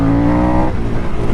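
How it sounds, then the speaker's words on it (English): A Harley-Davidson Sportster S motorcycle revs hard in first gear, a loud, close engine roar that climbs in pitch for about half a second before dropping into a rougher, lower rumble. "Drop down to first and give it a good twist of the throttle."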